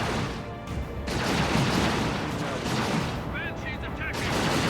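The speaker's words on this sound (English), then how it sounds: "Leman Russ just blowing apart the vegetation" Leman Russ tank battle cannon fire in Dawn of War 2, a battle heavy with booming blasts and gunfire that rumble continuously, loud, with combat noise layered over a low roar.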